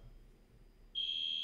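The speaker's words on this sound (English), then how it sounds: "the alarm just started here in our apartment" A building smoke/fire alarm in an apartment starts up abruptly partway through, a loud, steady high-pitched electronic tone that holds without a break after a quiet moment.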